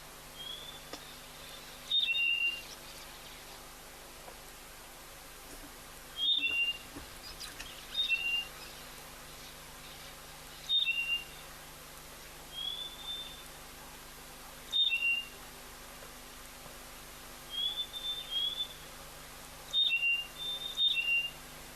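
A bird at a waterhole gives short, clear whistled two-note calls, repeated in spaced bursts about every few seconds over a quiet, steady background.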